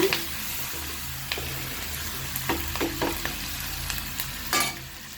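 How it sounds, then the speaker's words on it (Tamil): Mussels frying in a pan are stirred, giving a steady low sizzle broken by several sharp scraping and clattering strokes of the spoon against the pan, close and moderately loud, with no talking. "நான் மட்டியை இதில் கேட்டுக்கிறேன் இப்போ நல்லா கிண்டி விடுவோம்"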